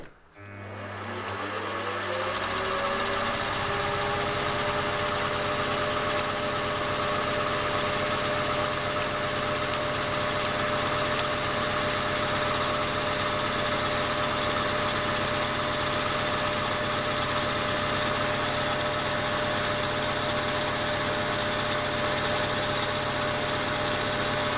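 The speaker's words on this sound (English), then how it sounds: "I'll go over to the mill and start machining" A milling machine cutting a crankcase for a small V-twin model engine spins up at the start, then holds a steady, loud, even whine with a constant hum underneath, no talk.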